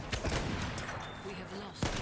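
Battlefield 1 machine gun fire rattles in rapid bursts across a short stretch of combat, dense and fairly loud with a voice briefly over it.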